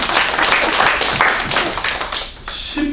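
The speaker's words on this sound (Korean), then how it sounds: "오늘 박수 한번 해주세요" A church congregation claps together during a sermon, a loud, dense burst of applause that thins out near the end, with no one speaking over it.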